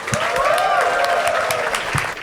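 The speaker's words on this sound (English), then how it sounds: "can we please give a big round of applause for them" A studio audience gives loud, steady applause for two film actors, a close, dense patter of many hands with a few sharper claps and faint cheering voices mixed in.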